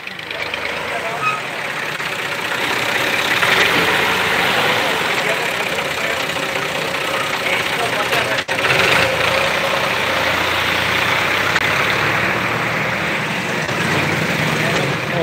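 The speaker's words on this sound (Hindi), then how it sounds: "रूसी ट्रैक्टर दोस्तों, रूसी ट्रैक्टर" A Russian tractor engine idles loudly and steadily nearby, a continuous rumbling drone with a brief dropout partway through, and no one speaks over it.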